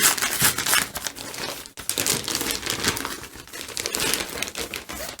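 Crinkly plastic sheath being peeled and pulled off a brand-new Toshiba Chromebook, a continuous close, loud crumpling and crackling with a brief pause partway through.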